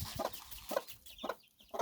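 Hens clucking nearby in short, irregular bursts, soft and fairly quiet, several clucks spread across a couple of seconds.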